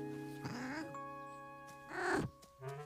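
A cartoon cat in a children's animated show meows twice, clear drawn-out calls separated by a pause, over soft sustained background music.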